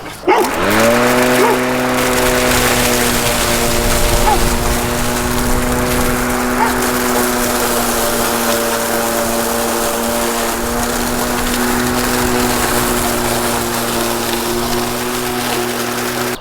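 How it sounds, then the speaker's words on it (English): A LitheLi EasySurge self-propelled lawn mower starts and runs, a loud, steady motor whine with a faint rise in pitch, rolling over leaves and light grass close up for the whole stretch. "to start the mower you push the button here and then pull the handle. And now we can actually go forward"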